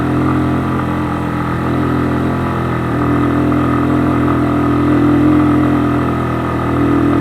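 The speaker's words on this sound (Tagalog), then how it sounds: "Pero ayun oh, iyak yung makina oh." A Keeway CR152 motorcycle engine drones steadily and loudly throughout, laboring at a constant pitch without letting up while climbing a steep hill in second and third gear.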